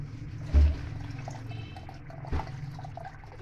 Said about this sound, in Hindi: गाइस अभी मैं इसमें पानी ऐड कर लूँगी